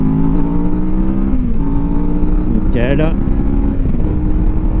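A QJ Motor SRT450 motorcycle pulls away in third gear, its engine note rising steadily and loudly before easing off, with a rider's voice briefly heard over it.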